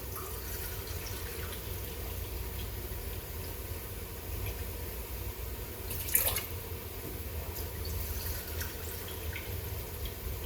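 Filtered water runs quietly in a kitchen while soup is being made, a soft continuous trickle with occasional drips and one brief splash partway through, no voices.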